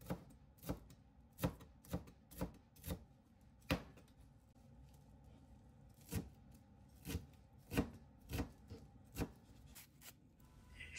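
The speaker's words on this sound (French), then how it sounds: "J'émince les fines herbes." Fresh herbs are chopped finely with a knife on a board for a green mango salad, giving a series of crisp, close, irregular taps spaced about half a second apart with no talk.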